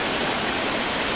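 Water rushing into a house through a gutter, a loud, continuous broadband roar of flowing water with no breaks and no voices.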